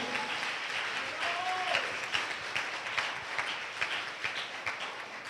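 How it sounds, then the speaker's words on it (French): A church congregation claps and applauds for the Lord during a service, a steady wash of many hands at moderate distance, with a voice briefly rising over the crowd. "Give the Lord a big clap."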